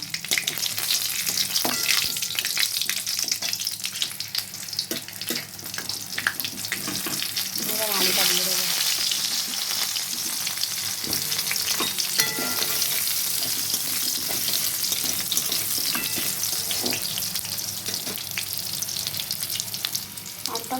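Black mustard seeds and green chillies fry in a little oil in a kadhai, a loud, continuous close-up sizzle with dense crackling and popping throughout.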